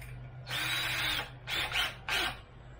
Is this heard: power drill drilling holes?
yes